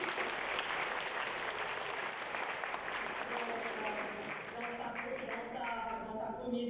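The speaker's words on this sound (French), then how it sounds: "un grand applaudissement pour les TIFI" Sustained applause from an audience at a certificate ceremony for graduating young people, a dense, steady wash of clapping that fades slightly toward the end, with a voice speaking over it.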